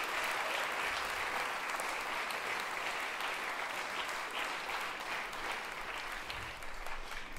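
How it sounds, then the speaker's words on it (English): An audience at a candidates forum for the 2023 NSW state election in Pittwater gives sustained, dense applause, a steady wash of many hands clapping in a room with no voices standing out. "Huge round of applause."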